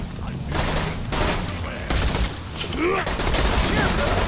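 Rapid bursts of gunfire from the video game Borderlands 2, dense volleys running almost continuously at loud level with brief dips between bursts.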